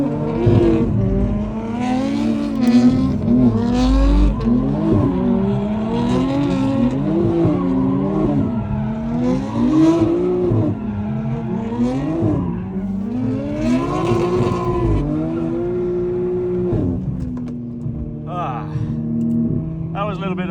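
A drift car slides around a roundabout on a public street in Spain, its engine revving up and down in repeated swells while the tires squeal. Loud and close throughout, with voices heard underneath.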